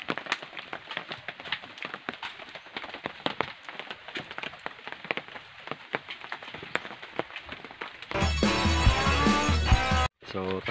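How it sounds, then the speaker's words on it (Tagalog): Rain patters and ticks on surfaces at a rural coconut farm during copra work, a scattered crackle of drops that gives way near the end to a sudden louder burst of sound. "Ulan guys oh."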